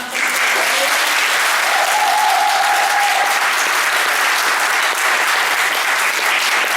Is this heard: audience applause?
yes